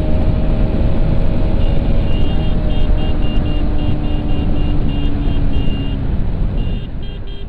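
RS200 motorcycle ridden hard at speed on a Sunday ride, a loud steady engine roar with heavy wind rush throughout, close and continuous, with faint intermittent beeping tones in the background.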